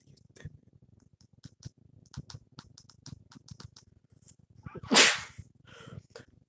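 One sharp, loud sneeze bursts out at close range amid quiet keyboard clicking and tapping.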